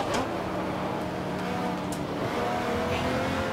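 A Jaguar XJ-S Trans-Am race car engine in GT Legends holds a steady, loud drone in third gear at high revs, rough and constant throughout.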